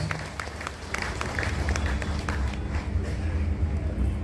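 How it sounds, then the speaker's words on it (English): An audience at a National People's Party political meeting claps in scattered, moderately loud applause over a steady hum from the hall's sound system. "let's give a big round of applause"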